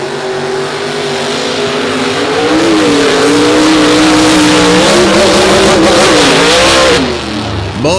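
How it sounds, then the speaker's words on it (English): Monster trucks racing flat out on a beach course roar loud and close, the engine pitch rising and wavering under full throttle before the sound cuts back near the end. "Both drivers pushing their trucks to the absolute limit in racing"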